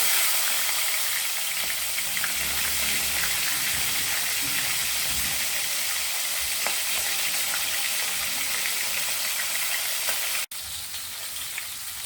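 Red snapper frying in hot oil, a dense, steady crackling sizzle that fills the whole stretch close up, with a brief dip near the end.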